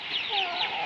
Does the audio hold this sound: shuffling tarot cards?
no